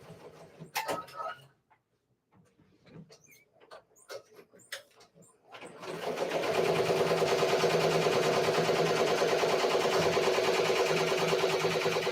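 A Ricoma MT 1501 embroidery machine stitching: a few scattered clicks and knocks at first, then the machine starts a fast, steady, rhythmic chatter that runs loud and continuous to the end.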